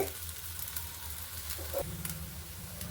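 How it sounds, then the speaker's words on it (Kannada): Rice roti with dill leaves cooking on a hot pan, giving a steady soft sizzle and hiss that runs unbroken throughout, close and moderately quiet, with no talking over it. "ಇನ್ನೊಂದು ನಿಮಿಷ ಆಯಿತು, ಬೇಯ್ತಾ ಇದೆ ರೊಟ್ಟಿ"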